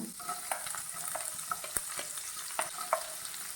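Minced ginger, green chilli and onion sauté in a pan for uppumavu, a low steady sizzle broken by repeated scrapes and taps of the spoon as they are stirred, with no voices.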